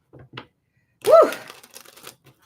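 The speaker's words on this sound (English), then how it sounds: "One more shuffle, then we're going to cut the deck." A quick riffle shuffle of playing cards, close and crisp, with a couple of soft card taps before it and a light patter after.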